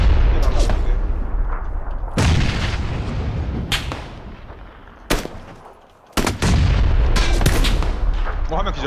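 A grenade explodes in the battle game PUBG: loud, heavy booms and sharp blasts hit one after another, each trailing a rumbling decay, with a brief drop to near silence between bursts.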